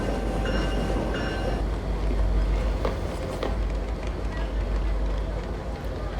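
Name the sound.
train in a TV show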